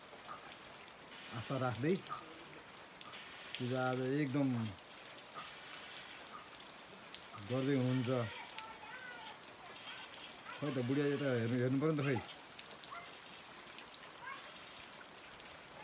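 Heavy rain pours down during an outdoor Ekadashi worship, a steady broadband hiss running through the whole stretch beneath a woman's close, intermittent talking.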